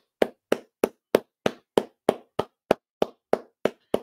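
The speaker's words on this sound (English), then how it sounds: "round of applause" Roughly thirteen sharp, evenly spaced hand claps at a slow, steady rhythm, each one crisp and close, with silence between them and no talking.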